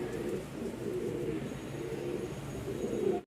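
Pigeons coo in a steady low murmur from a loft of paired racing birds, close and continuous throughout, ending abruptly.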